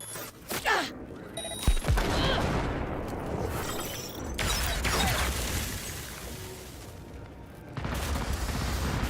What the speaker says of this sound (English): why is this cop also shooting me?